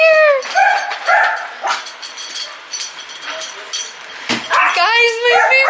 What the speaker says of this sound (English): my favorite doggy!